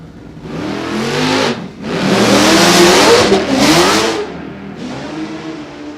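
Drag racing cars launching off the starting line at a quarter-mile track, very loud roaring engines revving hard in long bursts with brief gaps between, close and overwhelming, no voices.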